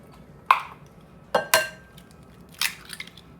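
Eggs being cracked for pineapple bread batter, a few sharp taps and cracks against a bowl edge in quick irregular succession, close and clear in a quiet kitchen.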